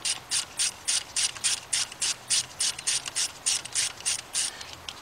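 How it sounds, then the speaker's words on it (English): A quarter inch drive ratchet with an 8mm deep socket backs out a bolt on a Ford Fiesta engine, a close, even run of about twenty crisp clicking bursts with no talk. "we got an 8mm deep, quarter inch drive with our quarter inch drive ratchet"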